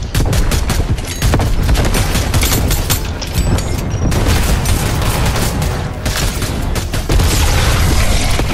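Dense gunfire in the video game Horde Rush: loud, rapid bursts of shots and booming impacts crowd together nonstop, with only brief dips between volleys.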